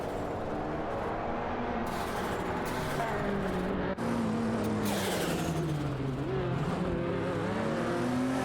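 Buick X and Ferrari 288 GTO racing side by side in a video game, steady loud engine drone with rising and falling revs as they battle for position.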